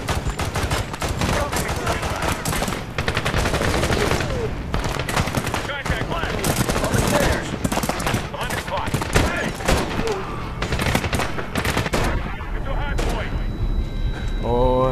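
Relentless gunfire in Medal of Honor: rapid bursts and heavy volleys with booming blasts, loud and continuous throughout, with faint voices underneath.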